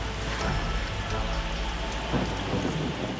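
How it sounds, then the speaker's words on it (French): Heavy thunderstorm rain pounding steadily on surfaces during a fishing trip in Africa, with a dense, continuous wash of sound and low rumbling underneath, loud and close throughout. "L'orage, les éclairs, c'est pas cool."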